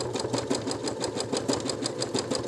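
A Minerva MC100E sewing machine runs at speed, its stepper motors driving rapid even stitching pulses that tick along with a mechanical whir, close and moderately loud.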